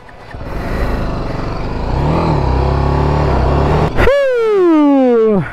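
A small trail motorcycle on a dirt offroad beginner course revs up, its close, loud engine building steadily, then rising and falling in one sharp throttle blip near the end.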